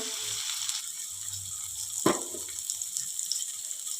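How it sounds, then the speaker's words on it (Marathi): Chopped onions with cumin seeds frying in two spoons of hot oil in a kadhai, a steady soft sizzle running throughout, with one sharper burst of crackle partway through as they are stirred. "कांदे आपल्याला छान सोनेरी रंग येईपर्यंत परतून घ्यायचे आहेत"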